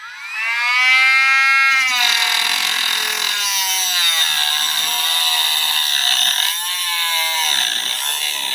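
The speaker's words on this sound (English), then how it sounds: "I am going to use this cutoff grinder tip attachment to just take this screw off" A Milwaukee M12 cordless rotary tool with a cutoff wheel attachment cuts through a screw, giving a loud, continuous high-pitched whine that shifts slightly in pitch as the wheel bites into the metal, with no talking.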